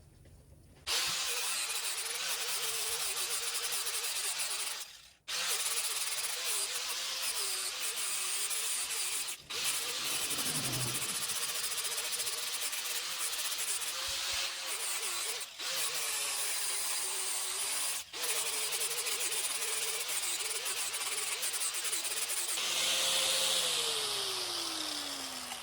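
Power grinder working down a wooden walking stick, a loud continuous rasping whine held for long stretches and broken by several brief pauses as the tool lifts off the wood.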